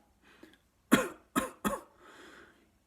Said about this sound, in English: okay, so when a person begins to cough,